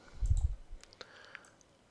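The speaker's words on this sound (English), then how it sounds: "and I right click to finish the line" A few sharp computer mouse clicks, close and isolated, with a soft low bump at the start and a couple of quieter ticks trailing after.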